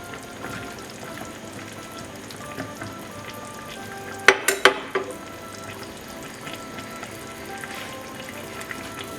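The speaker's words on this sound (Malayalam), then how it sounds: "ഇനി ഇതിലേക്ക് പൊട്ടറ്റോ ചേർത്ത് കൊടുക്കുകയാണ് ഞാൻ." Potatoes frying in hot duck fat mixed with coconut oil, a soft steady crackling sizzle that bursts into a short loud spatter of pops midway, then settles back to a quiet hiss.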